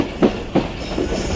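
Rehman Baba Express passenger train of Pakistan Railways approaching a junction, with two dull rhythmic wheel clunks over rail joints and a steady rolling rumble underneath.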